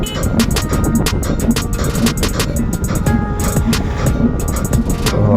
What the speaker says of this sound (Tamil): ஒரு பைக் போகுது.